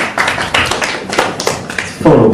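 Audience applause and cheering at a live comedy show, a dense wash of clapping that swells again near the end, loud and close with no talk over it.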